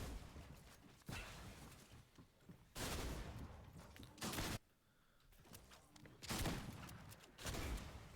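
Fortnite gunfire rings out in a duos match, with several bursts of sharp shots separated by short quieter gaps, fairly faint overall and without speech.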